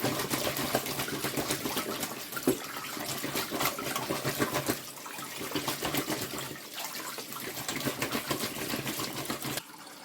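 Water pours steadily from a tap into a bowl to cover potatoes, a continuous close rushing splash that dips briefly partway through and stops abruptly at the end.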